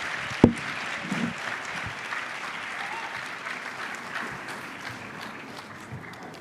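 Sustained audience applause for panelists at a school summer program closing ceremony, a dense even clatter of many hands with one sharp close clap near the start, gradually tapering toward the end.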